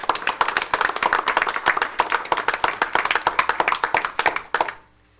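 Audience at a school board of education meeting claps in a brisk, dense round of applause that stays steady, then stops abruptly near the end, leaving quiet.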